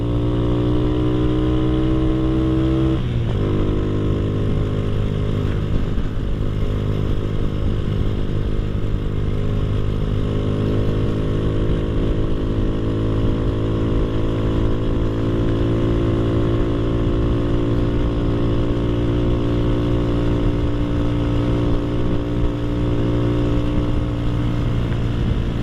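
A Honda Astrea Grand motorcycle fitted with a Jupiter carburetor is ridden in third gear, its engine droning loudly and steadily close by, with a brief shift in pitch early on and a constant hum after that.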